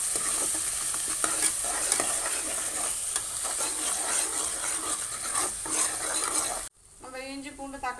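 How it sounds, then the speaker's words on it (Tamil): Ground ginger-garlic paste fries with cinnamon and cloves in a pan for vegetable kurma, a dense close sizzle with scraping stir strokes; near the end the frying cuts off and a brief voice is heard. "இஞ்சி பூண்டு அரைச்சதை போட்டுக்கலாம் நம்ம. மிக்ஸ் பண்ணி விட்டுக்கிறேன் நல்லா."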